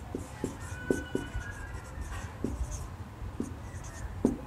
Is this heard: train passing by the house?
no